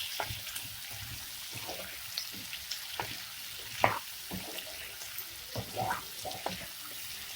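Raw papaya curry with coconut, salt and turmeric stirred in a pan: soft scattered scraping and sizzling knocks from the spoon, fairly quiet and irregular, with no talking.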